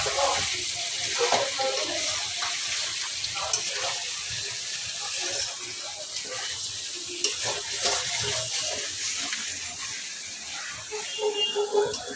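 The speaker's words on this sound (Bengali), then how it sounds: "অনেকদিন পরে মাংসটা রান্না করছে, জানি না কেমন খেতে হবে, দেখা যাক।" Chicken meat fries in a pan with a loud, steady hiss of sizzling oil and occasional stirring scrapes, while a person talks over it.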